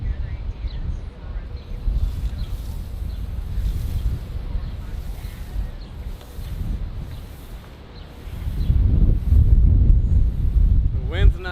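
Steady wind blowing outdoors in extreme heat, buffeting the microphone with a continuous low rumble that swells louder near the end.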